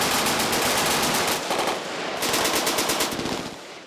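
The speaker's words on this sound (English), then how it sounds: "It is the world's largest machine gun shoot." Rapid machine gun fire rattles in long, fast bursts at the world's largest machine gun shoot in West Point, Kentucky, loud and sustained with a brief dip before another burst, with multiple guns blending into a continuous outdoor clatter.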